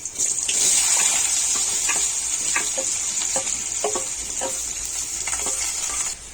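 Potatoes frying in oil with popped mustard seeds, a loud close hissing sizzle throughout, dotted with repeated scraping stirs and light metallic taps.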